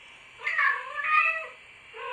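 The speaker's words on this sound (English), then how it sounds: "if you suddenly heard a meow" A domestic cat meows twice in close succession, clear and fairly near, with a shorter trailing call at the end; no one speaks over it.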